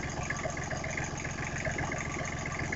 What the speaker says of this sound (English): I discovered that this is a Briggs & Stratton diesel.